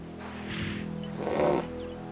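Deep, rumbling hippopotamus grunts rise twice over a steady low background hum, resonant and fairly close, at a river in Kenya, with no one speaking.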